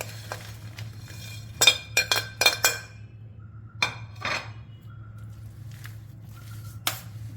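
Jaggery stirred into grated raw mango in a bowl, heard as a burst of sharp clinks from a spoon striking the bowl, then scattered taps and soft squishing, close and without talk.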